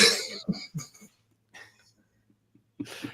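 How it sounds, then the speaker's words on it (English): A series of harsh, close coughs in quick bursts, followed by a pause and another rough cough at the end. "My first cough of the night."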